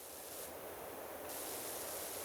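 A pressure washer sprays a floor and wall of tile or concrete in the video game PowerWash Simulator, giving a steady, continuous hiss that holds loud and even throughout with no talk over it.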